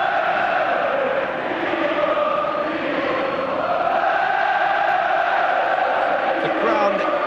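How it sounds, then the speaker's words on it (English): A packed stadium of Crystal Palace supporters roars through an FA Cup semi-final against Liverpool, a dense, sustained wall of crowd noise with surging chants, heard from within the ground, with commentary speech layered over it. "booming with noise from Palace supporters"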